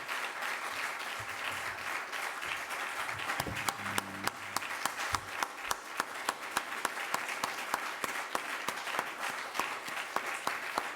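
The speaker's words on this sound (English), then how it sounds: "And you deserve the round of applause." An audience at the close of a conference on slips, trips and falls applauds steadily for eleven seconds, a moderate wash of clapping with a few sharper individual claps standing out and faint voices underneath.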